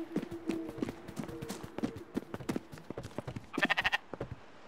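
A sheep bleats several times in the video game Spiritfarer over rhythmic clip-clop footsteps, and a louder wavering bleat comes near the end.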